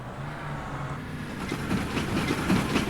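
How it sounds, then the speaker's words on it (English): Train passing by in the Trail Out driving game, set on a Tokyo city map: a low rumbling roll with rhythmic clattering that builds over a few seconds, moderately close and steady. "definitely have a train passing by right here"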